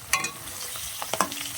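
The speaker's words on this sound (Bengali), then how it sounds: "এই যে মাছগুলো আমি এখন ভালোভাবেই তুলে নিচ্ছি" Fried fish being lifted from hot oil gives a steady low sizzle, broken by a few close clinks and scrapes of the utensil against the pan.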